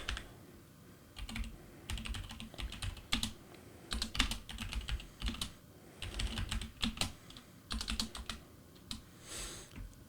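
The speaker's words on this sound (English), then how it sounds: "we're going to type in a couple keywords just to make it add that" Keywords being typed on a computer keyboard while writing a product description: quick bursts of close, crisp key clicks in uneven runs, with short pauses between words.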